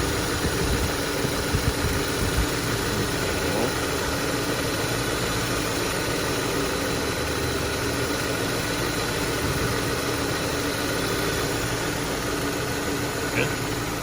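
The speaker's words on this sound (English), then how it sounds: "So now my compressor is working." A car engine idles with its AC compressor running, giving a steady, droning hum and faint vibration that stays even throughout, with speech briefly over it.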